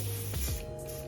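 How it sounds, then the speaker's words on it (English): A red can of Even Bond hair spray sprays on a wig in one short continuous hissing burst, close and fairly loud. "I'm gonna use the red can of the Even Bond spray"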